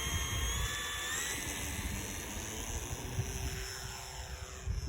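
A model airplane flies overhead under partial throttle, around half power, its engine giving a steady high-pitched drone with slowly shifting pitch, continuous and moderately close, with no voices.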